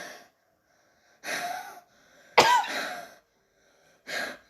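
A voice imitates heavy breathing from a crashed war video game, giving four harsh, rasping breath bursts separated by silences, with the loudest, wheezy gasp in the middle.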